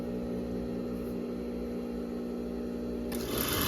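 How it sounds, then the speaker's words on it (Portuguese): A sewing machine runs steadily, stitching a seam along the edge of baby romper fabric, with a continuous mechanical hum that shifts slightly near the end. "Então passa essa costura selando ele aqui, assim, ó, bem na beiradinha."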